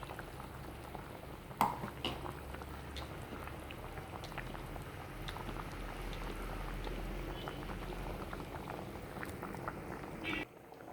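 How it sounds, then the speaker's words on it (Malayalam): A mackerel head and mango fish curry boils steadily in a pot, a soft continuous bubbling and simmering close by, with a sharp clink early on and faint background noise. "അയലത്തലയും മാങ്ങയും കൂടെ ഇട്ട് നന്നായിട്ട് മീൻകറി പോലെ തിളച്ച് കഴിയുമ്പോൾ"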